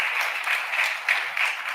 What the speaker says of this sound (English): Let's also give them a round of applause.